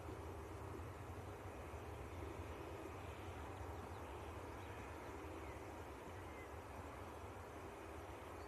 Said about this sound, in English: Aer Lingus on finals.